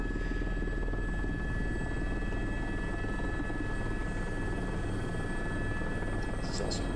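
A helicopter carrying a sling load on approach, its rotor chop and engine whine droning steadily and loudly throughout, with faint voices in the background.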